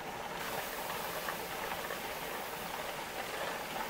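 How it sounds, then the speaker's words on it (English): Steady, loud broadband hiss of steam venting from the lock of a Presto 16-quart pressure canner processing beef stock, a continuous rushing roar that stays even throughout with no talk. "the steam is coming out of the lock"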